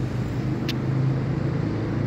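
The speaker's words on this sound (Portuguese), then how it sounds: "a Avenida Ipiranga, que é onde está passando os carros que estão subindo para a Consolação" Steady traffic rumble from cars driving up Avenida Ipiranga toward Consolação at a São Paulo street corner, a continuous low drone with no voices.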